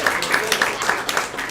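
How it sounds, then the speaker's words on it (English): At a 2021 high school awards ceremony, an audience claps in a fairly even rhythm of distinct hand claps, moderately loud, with voices audible underneath. "There's a little more clapping there, I think."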